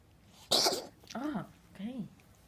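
A cat coughs and hacks, trying to bring up furballs: a sharp, loud close burst followed by two softer retching heaves, heard up close indoors.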